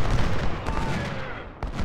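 Cannon and rifle fire from the Civil War strategy game Ultimate General: Civil War, South Mountain battle, forming a dense, continuous roar of overlapping shots and booms with a brief dip near the end.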